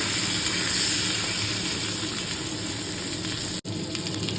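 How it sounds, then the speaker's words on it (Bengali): Potatoes, green chillies and tomatoes fry lightly in a pan, giving a steady, close sizzling hiss that runs almost unbroken, with one brief dropout near the end and no voices. "আলু, কাঁচা লঙ্কা, টমেটো সবগুলোকে হালকা করে একটু ফ্রাই করব"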